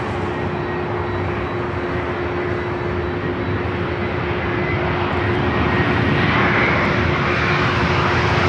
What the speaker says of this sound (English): Delta Airlines Flight 8 coming in from Tokyo Haneda on the A350-900.